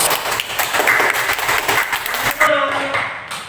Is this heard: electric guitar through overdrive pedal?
no